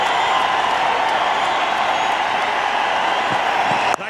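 A large cricket crowd at an India versus Australia match in a tense finish, roaring and applauding as a steady, dense wash of cheering that holds throughout.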